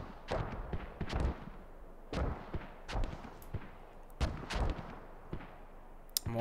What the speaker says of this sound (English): Mortar still going down here on FOB Papanov.